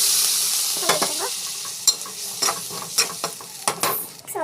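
Ingredients sizzle steadily in a hot pan while a spoon stirs and scrapes in repeated short strokes, the frying hiss loud and close throughout with no voices.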